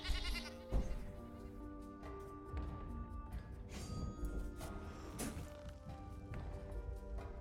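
A goat card bleats when played in a digital card game, a short bleating cry followed by thuds and soft game effects, fairly quiet overall.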